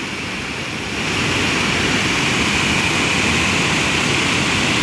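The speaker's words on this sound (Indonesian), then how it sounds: "air terjun" Grojogan Watu Purbo waterfall in Sleman roars steadily, a loud, dense wash of rushing water that swells slightly after the first second and then holds constant, with no voices.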